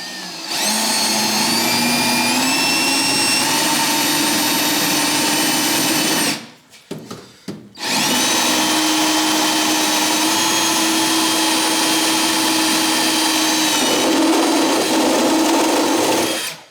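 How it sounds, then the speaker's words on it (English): A power drill with a step bit whines steadily at close range, pausing briefly in the middle before resuming its continuous, high-pitched grinding through metal on a Fox-body Mustang. "we'll go ahead and drill those out with a step bit."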